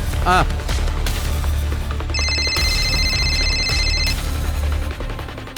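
A telephone rings in a tense crime drama scene, a loud repeated electronic ring over a booming background score with brief sharp hits.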